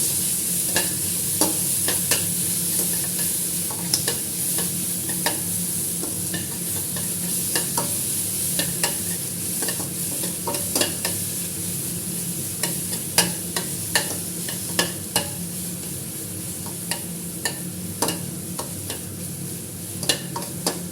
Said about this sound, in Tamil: கொஞ்சம் மஞ்சத்தூள் கொஞ்சம் உப்பு தேவையான சாதத்துக்கு தேவையான உப்பு போட்டு நல்லா கிண்டிடுவோம்